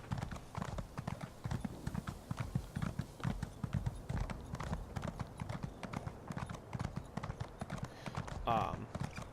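Horse hooves clip-clop in a brisk, regular rhythm, close by, in a video game, while a voice talks over them.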